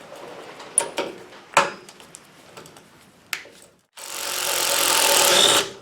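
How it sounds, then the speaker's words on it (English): Power driver working on a nut on a 1968 Cadillac lower control arm, preceded by several sharp metal clicks and taps, then a loud, steady close whirr that runs for about two seconds. "I'll see if this driver can get it off."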